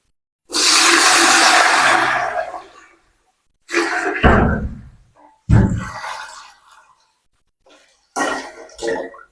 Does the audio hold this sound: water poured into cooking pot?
yes